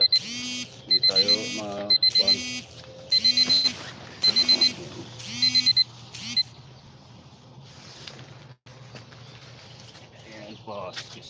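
An alarm clock beeps in six evenly spaced bursts of rapid electronic tones over a steady background hum, then stops while someone speaks nearby.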